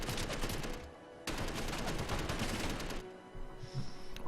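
Gunfire in the space sandbox game Space Engineers: dense, rapid automatic bursts in two long volleys separated by a brief pause, fairly close and steady, with a faint tone after the shooting stops.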